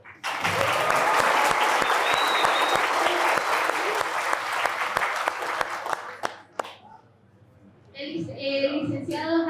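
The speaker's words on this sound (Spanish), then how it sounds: "Un fuerte aplauso." Loud, dense applause from an audience at a university psychology debate, greeting a clinical psychologist; steady clapping for about six seconds that thins out and fades, followed by a voice speaking.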